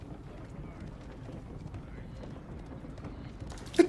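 Horse archers move in a medieval strategy video game with a steady patter of hoof clip-clops under faint background noise and a brief louder hit at the end.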